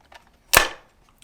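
One crisp snapping clack from the folding stock of an SSG10 A3 airsoft rifle with short barrel as it locks, a single close sound with a brief rattling tail in otherwise quiet surroundings.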